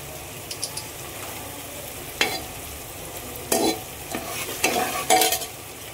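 Chopped onion and tomato cooking in a pan, giving a low continuous sizzle broken by several sharp bursts of stirring and scraping near the end. No one speaks.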